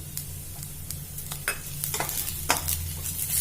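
Green chillies, cut lengthwise, tossed into onions browning in a pan for baby potato curry, giving a steady low sizzle with scattered clinks and scrapes of stirring, close and moderately loud, no talk.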